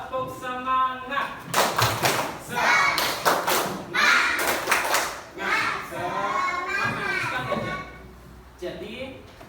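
A classroom of children does a rhythmic spirit clap, sharp clapping and thudding in patterned bursts, mixed with children's chanting voices and an adult voice at the start.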